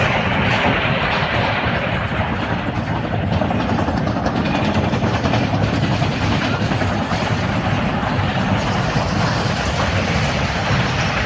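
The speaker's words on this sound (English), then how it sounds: "It's going to be tough to hear over the train." A train passes beside a high school baseball field, a loud continuous rumble with clattering rail noise that stays steady the whole time and drowns out anything else.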